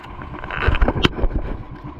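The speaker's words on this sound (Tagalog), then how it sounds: "yung malaking bangka na ang gamit ko, yung mabilis, para mabilis kami makarating" A large, fast motorboat engine runs close by at sea, a rough low drone with splashing and wind buffeting, rising and surging over about two seconds.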